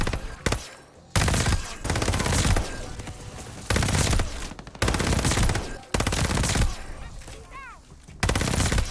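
Call of Duty Vanguard gunfire rattles in loud, dense automatic bursts separated by short gaps, with a few chirping game effects layered in.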